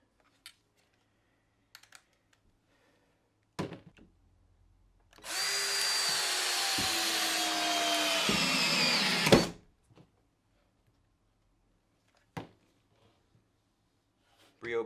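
A Ryobi brushed cordless drill with a 1.5 Ah battery, set in first gear, runs in one steady whirring burst of about four seconds with a pitch dip midway. Sharp clicks and clacks sound before and after it in an otherwise quiet room.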